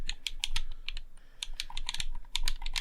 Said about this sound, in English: I do like the D-pad on the Xbox. People say they don't like the tactile nature of how it sounds.